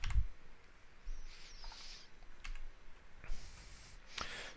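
A few sparse clicks from a computer keyboard as a shortcut is pressed, faint and spaced apart in a quiet room with a soft background hiss.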